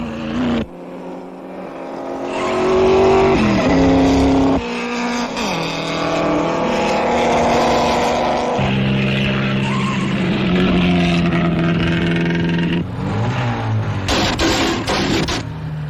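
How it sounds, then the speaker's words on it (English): Vintage race cars, an Alfa among them, race in a 1920s-era motor race. Engines roar and shift pitch loudly and almost without a break, with changing revs and passes, like an archival race soundtrack. "Then Ascari leads on an Alfa."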